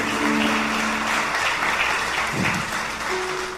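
A church congregation claps together for the Lord, a dense, steady burst of applause that fills the room for a few seconds with no talking over it.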